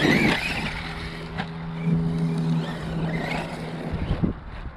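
Traxxas Revo 2.0 RC truck whines as its wheels spin in soft dirt, the motor note rising and falling in bursts amid wind buffeting on the microphone.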